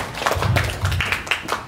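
An audience at a youth entrepreneurship seminar gives a short round of clapping, a brief, close patter of hands mixed with some murmuring.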